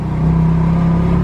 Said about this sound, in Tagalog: Tok-tok tricycle.